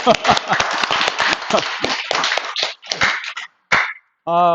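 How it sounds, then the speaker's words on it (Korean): A small audience at a Korean Kouk Sun Do training gathering gives a short burst of sharp, close hand claps that quickly thins to a few stragglers, ending with a voice starting to speak. "박수 좀 한번 쳐줘."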